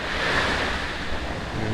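Surf washing onto a brown sandy beach at Kuala Raja, a steady rushing wash of waves with some wind across the microphone, continuous and fairly loud with no voices.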